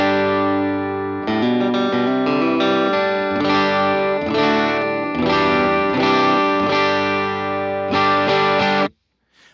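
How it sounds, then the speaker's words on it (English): Taylor T5 electric guitar on the humbucker and bridge position, played dry into a DC-30 amp pushed past breakup: loud, sustained, slightly gritty strummed chords ringing steadily for about nine seconds, then cutting off. "we'll start with just a dry signal into the DC-30"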